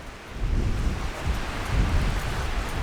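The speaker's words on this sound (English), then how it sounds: "I'm glad to see the rain." Steady rain pours down while low rumbling swells beneath it, loud and close, with no voices.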